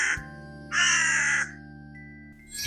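A black crow gives a brief call and then one long, harsh, loud caw, with a faint third call at the end and a steady low hum underneath.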